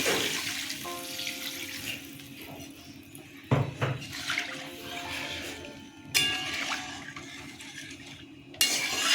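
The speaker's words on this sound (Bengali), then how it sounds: "জল দিয়ে দিচ্ছি" Water being poured into a pan of katla fish curry with gathi kochu (taro), a steady splashing pour broken by a few clanks of the pan, close and moderately loud with no talking.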